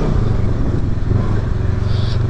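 A 2021 Polaris RZR 1000 XP side-by-side runs its engine hard and close, a steady loud rumble with a rising rev near the end and no talk over it.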